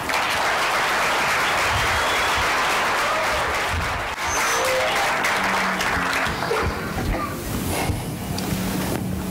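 An audience at a university thesis competition breaks into sustained applause, a dense wash of clapping that carries on steadily before thinning out toward the end.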